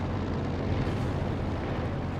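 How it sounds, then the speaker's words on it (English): An anti-tank grenade blasts against a Panther tank in Company of Heroes, heard as a continuous dense, low rumbling roar that holds steady throughout without distinct separate hits. "AT grenade does connect onto the Panther."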